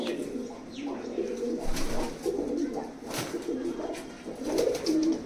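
Pigeons coo repeatedly close by in a set of breeding birds, with soft rolling coos overlapping at a steady pace and a little low background noise.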